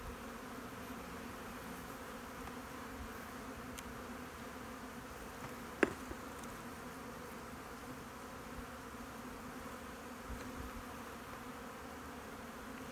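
Honeybees fly around a hive in a faint, steady buzzing hum that holds throughout, with a sharp brief knock near the middle.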